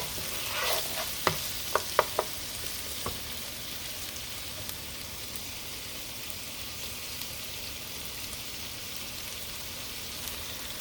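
Spinach sautéing in a pan gives off a steady soft sizzle, with a few sharp utensil taps against the pan near the start, then a continuous even hiss.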